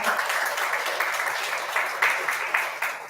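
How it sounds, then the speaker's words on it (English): Audience applause for parents at an academy awards event, continuous crowd clapping with a steady, dense texture, fairly close and sustained throughout. "Please give them a big round of applause"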